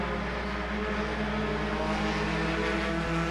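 Race cars at Agassiz Speedway during an August 2020 race make a constant roar from several engines, a dense, even drone with no breaks.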